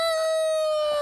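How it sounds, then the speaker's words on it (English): A rooster crows once on a Big Island homestead, a loud, close, sustained tonal call lasting about a second with no talking. "Obviously that's a rooster."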